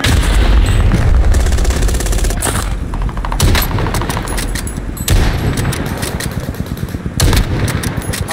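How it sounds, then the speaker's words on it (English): Loud, continuous automatic gunfire in Call of Duty Modern Warfare, with rapid bursts and heavy booming shots filling the whole clip. "I was getting shot in the fucking back"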